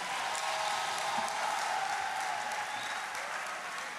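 A church congregation applauding at a national retreat for unmarried people, a dense, steady wash of clapping that holds at an even level throughout and fades slightly near the end.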